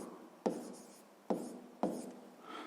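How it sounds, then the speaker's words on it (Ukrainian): Pen or marker drawing a table on paper during a maths lesson, three sharp scratchy strokes with short gaps, close and alone, no talk. "а для початку запишемо умову цієї задачі у скороченому вигляді. Я буду записувати у вигляді таблиці."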